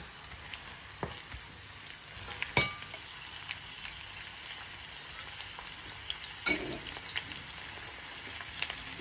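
Spiny gourd (kakrol) pieces fry in a pan with a steady, fairly quiet sizzle, broken by a few sharper spatters and clinks as the food is stirred; no one speaks.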